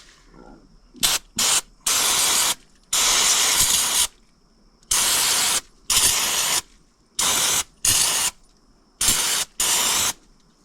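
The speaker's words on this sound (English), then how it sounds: "we're gonna hit that with some brake cleaner" Several bursts of brake cleaner aerosol spray hissing onto a John Deere compact tractor air intake, some short and some held for a second or more, with brief pauses between, close up and fairly loud.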